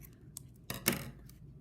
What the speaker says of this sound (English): take my scissors and snip